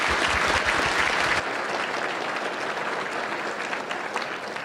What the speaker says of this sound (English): I'd like you all to give another round of applause for our outstanding